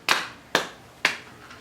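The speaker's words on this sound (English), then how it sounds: "Clap your hand" Hand clapping by guests on a couch at a summer interview: three crisp, close claps spaced about half a second apart, standing alone without talk.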